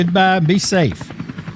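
Helicopter sound effect for a traffic-and-weather chopper report on a sports talk radio show, a brief whirring buzz running under voices talking over it.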